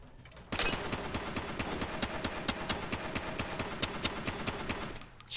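Sustained rapid gunfire from a .308 rifle in Fallout New Vegas, a dense rattling stream of shots at a steady fast rhythm lasting several seconds, loud and close, then stopping abruptly.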